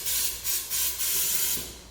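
A flammable aerosol is sprayed into the intake of a BMW E34 engine in a few quick bursts, giving a close, bright hiss with short pauses between sprays.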